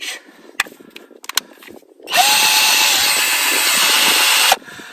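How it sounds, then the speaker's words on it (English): An electric drill fitted with a polishing pad spins up suddenly after some light knocking, running at a loud, steady whine for about two seconds before stopping. "It's securely in the drill."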